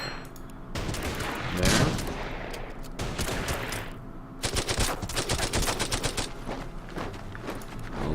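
Dense bursts of machine-gun and rifle fire rattle in Order of Battle: Panzerkrieg at Voronezh, loud rapid volleys with short gaps, and a voice speaks one brief word.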